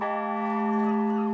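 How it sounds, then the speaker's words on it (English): A church bell tolls with chimes ringing in a Dutch town, one sustained, resonant metallic tone with clear overtones, steady and fairly loud, with no talking. "the chimes rang and the bell tolled"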